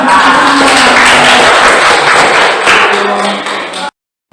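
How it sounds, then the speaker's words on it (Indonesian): Loud, dense clapping from a class of schoolchildren close by, sustained for a few seconds before cutting off abruptly. "beri tepuk tangan."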